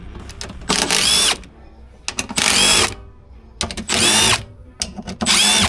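Several bursts of a power drill or impact driver removing bolts from a Polaris RZR Pro body panel, each run lasting about half a second to a second with short whirring pauses between, close and loud with no talk.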